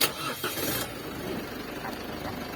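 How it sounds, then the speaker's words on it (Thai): An Isuzu D-Max pickup engine, started by an aftermarket push-start button, cranks briefly and catches, then settles into a low, steady idle close by. "เหยียบเบรกแล้วก็สตาร์ทต่อได้เลย"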